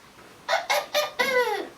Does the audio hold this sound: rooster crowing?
yes